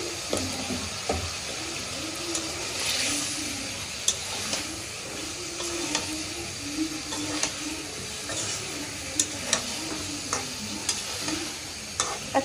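Chopped ridge gourd stirred into spice masala in a hot pan, with a steady sizzle and repeated scrapes and clicks of the spoon throughout, plus a faint low hum underneath.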